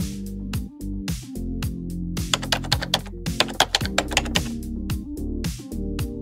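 Quick bursts of keyboard key clacks, close and crisp, typed in uneven runs with short pauses between them.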